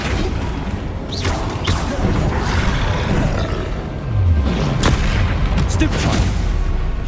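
Spell effects from combat in Hogwarts Legacy, a Flipendo cast in battle: a steady roaring wash of magic and rumbling booms, with a deeper whooshing impact near the middle, loud throughout.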